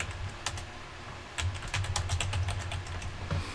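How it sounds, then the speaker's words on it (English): Rapid typing on a computer keyboard at a desk, a dense run of close, sharp key clicks that grows busier after the first second, with a low background hum and no talking. "then you are going to type"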